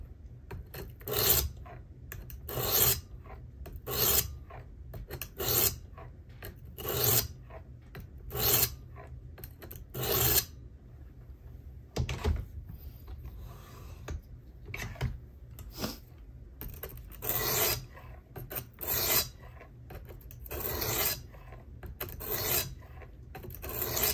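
A knife blade drawn across the 400 stone of a Worksharp Precision Adjust sharpener, a close, regular rasping scrape in repeated strokes with brief pauses between passes, alone without talk.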